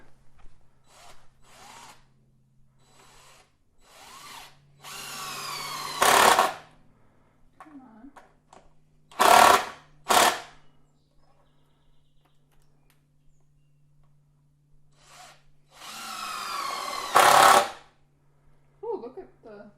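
A power drill drives screws into a treated lumber bench resting on concrete blocks, sounding in several loud bursts of whining and whirring separated by pauses, with people talking between the bursts outdoors.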